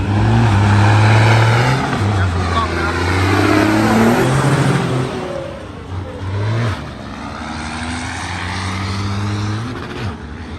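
Heavy 10-wheel trucks race around a circuit, engines roaring loudly and revving with rising and falling pitch as they pass close by, a sustained throaty drone throughout.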